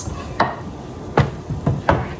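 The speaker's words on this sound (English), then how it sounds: "Move this chopping block over here to put this on top of it." A wooden chopping block shifted across a kitchen counter while roasting butternut squash, giving four separate hollow knocks and thumps spaced irregularly over two seconds, close and fairly loud, with no talking.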